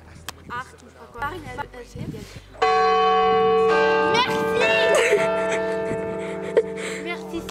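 A large church bell rings out loud and sustained, its bright resonant tone swelling in after a stretch of indoor talk and then ringing on steadily with a person speaking over it.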